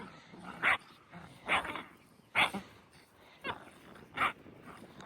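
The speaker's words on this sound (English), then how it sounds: "So Jazz is barking." A dog named Jazz barking at a new grey horse in a livery yard, six sharp barks spaced about a second apart, fairly close with light background noise between them.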